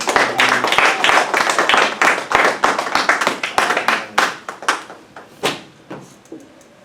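A church congregation at a Saturday service claps hands together, a dense run of sharp claps that thins into scattered, slower claps and a few final strokes.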